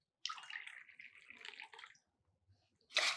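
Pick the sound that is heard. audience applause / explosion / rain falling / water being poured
water being poured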